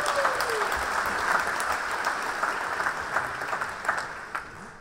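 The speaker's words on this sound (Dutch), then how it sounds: "Verdienen wel een extra applaus inderdaad" Concert audience applause for a men's choir anniversary performance, a sustained, even wash of many hands clapping at moderate distance, steady throughout with a few louder claps rising near the end.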